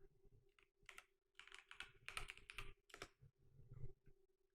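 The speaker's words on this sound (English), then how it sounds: "I'm going to type the word explorer" Someone types a single word on a computer keyboard: a quiet, close run of irregular key clicks in small bursts with brief pauses between, heard alone with no speech.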